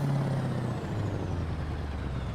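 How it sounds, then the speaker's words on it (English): Truck engine idling with a steady low drone and an air brake hiss, close and continuous throughout, a lower engine tone settling in as the hiss fades, no talk. "God, I love the sound of this truck."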